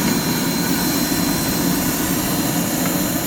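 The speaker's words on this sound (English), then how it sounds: "This is a standard 500 series burner." A Clean Burn 500 series boiler burner runs with a steady, loud, close roar. The dense whooshing hum stays constant throughout, with no voices.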